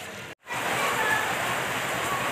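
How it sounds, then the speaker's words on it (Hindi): Heavy rain pours down in a dense, continuous hiss, loud and steady after a brief cut at the start, with someone speaking over it. "तेज़ बारिश शुरू हो गई है"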